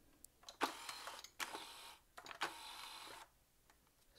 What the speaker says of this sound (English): So that's your lid motor.